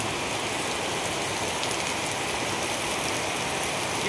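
Heavy rain pouring onto the streets of New Town, a dense, even wash of falling water.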